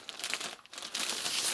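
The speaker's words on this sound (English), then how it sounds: "Remove it from the bag." Plastic bag crinkling as a Lenovo IdeaPad Flex 5 laptop is unpacked, a close, dry rustle in irregular bursts with a brief lull midway before a denser stretch of crackling.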